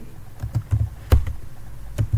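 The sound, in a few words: typing code on a computer keyboard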